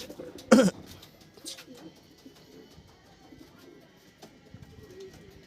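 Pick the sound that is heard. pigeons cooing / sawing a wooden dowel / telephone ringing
pigeons cooing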